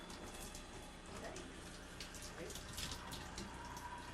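A shower runs at full cold in a mountain home in Virginia during winter, a steady, fairly soft patter of spray hitting a surface, with someone speaking over it.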